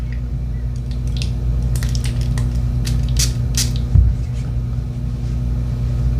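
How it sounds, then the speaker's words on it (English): Several short, crisp hissing bursts of perfume sprayed onto paper, one after another, over a low steady rumble in the background. "Don't know if I want to spray on that same piece of paper"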